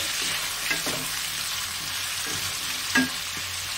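Raw tomato dropped into a pan of frying morola fish for a curry, sizzling steadily at close range, with a couple of soft stirring knocks and a brief louder splutter near the end.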